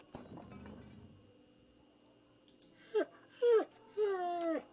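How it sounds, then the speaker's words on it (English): A dog whining in the Pillars of Eternity video game, three rising-and-falling whimpering wails near the end after a quieter stretch of low ambient game sound. "It looks up when you approach and whines a low note, tail wagging slightly."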